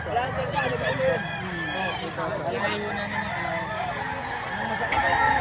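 A rooster crows amid the busy noise of a gamefowl sale in Lipa, Batangas, with clucking and overlapping crowd voices throughout.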